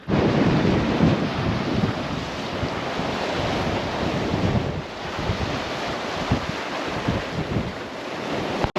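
Strong coastal wind buffets the microphone on a rainy, blustery day at Cape York, the northern tip of Australia, with surf rolling underneath; a loud, continuous roar throughout, no voices.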